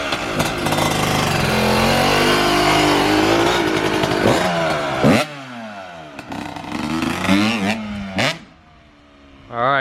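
A Kawasaki KX125 two-stroke dirt bike engine revs hard and loud up close, holding a high buzzing whine before dropping and surging again in several sharp blips, then falling away before a final burst.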